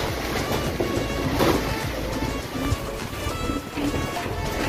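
Strong wind from Typhoon Quinta (Signal No. 3) roars steadily with gusty, broadband rushing and buffeting, loud and close throughout, with faint indistinct sounds beneath.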